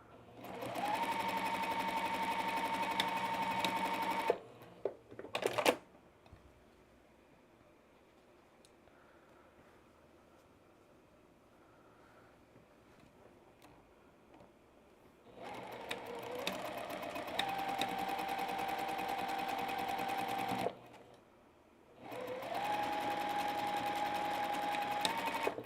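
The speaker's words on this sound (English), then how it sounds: "I am going to backstitch several stitches on this one" A sewing machine backstitching a quilt block runs in steady, fast bursts, loud and close, with a long quiet pause in the middle and a brief stop before the final run.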